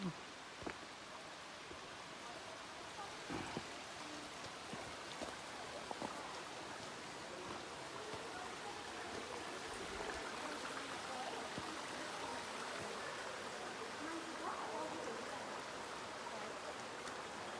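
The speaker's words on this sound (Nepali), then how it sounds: "चिसो चिसो पानी झर्नाको।" Steady rushing of cold waterfall stream water at Mount Charleston, a broad continuous wash with occasional splashes, fairly near and unbroken throughout.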